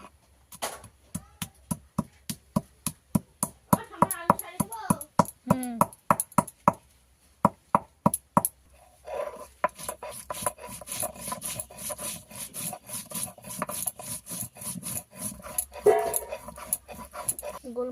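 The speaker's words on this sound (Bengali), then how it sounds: "গোলমরিচ আর গরম মশলা একসঙ্গে বেটে নেব।" Black pepper and garam masala are ground into a paste with rhythmic rasping strokes, first as spaced regular scrapes, then faster and denser, with a voice briefly heard in the background.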